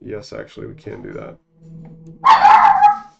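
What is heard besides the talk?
dog barking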